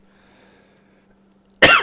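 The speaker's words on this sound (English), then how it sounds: "You do not come to this stream just to listen to me cough for 5 minutes" A single sudden harsh cough bursts out close and loud after near silence with a faint steady hum in the background.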